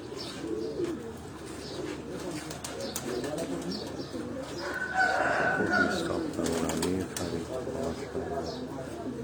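On a rooftop, pigeons keep up a low cooing with scattered chirps and a burst of flapping wings midway, mixed with people talking nearby.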